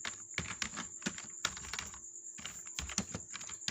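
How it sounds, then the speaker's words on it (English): Fast bursts of typing on a computer keyboard, close and crisp, with short pauses between runs of keystrokes and no talking. "let me just type it here"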